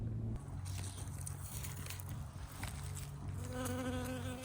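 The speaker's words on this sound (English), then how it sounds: "Oh, I love to watch the bees in action." Bees buzz among cucumber plants in a backyard garden bed, a close, droning hum that rises and falls as they move near, steady for several seconds with no talk.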